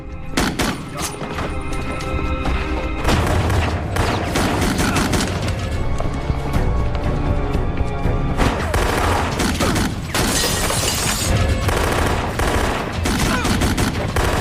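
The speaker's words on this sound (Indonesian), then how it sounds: "Mendengar suara tembakan, Amy cukup panik." Heavy gunfire from an armed assault on a headquarters in The Last Ship, with dense bursts of automatic fire and booms running loud and continuous throughout.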